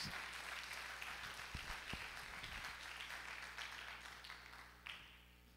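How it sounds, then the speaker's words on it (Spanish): A church congregation claps together in an offering of applause, a dense wash of hand claps that holds steady, then thins and fades toward the end, with no voices over it. "Vamos a ofrecer una ofrenda de palmas"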